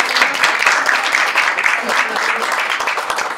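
An audience at an undergraduate art history conference applauds a student panel, a steady, full round of clapping from many hands that holds at an even level throughout.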